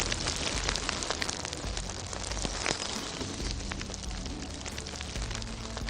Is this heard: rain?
yes